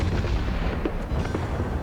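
A warship's naval guns firing in World of Warships, deep booming blasts that rumble and roll over a continuous low battle drone.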